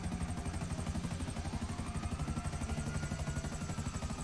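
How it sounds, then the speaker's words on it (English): Rapid rhythmic rotor thumping of an armored helicopter in the video game GTA 5 drones steadily throughout, with a whining engine layered over the chopping beat. "It is one of the more armored helicopters compared to the Hunter or the Apache helicopter."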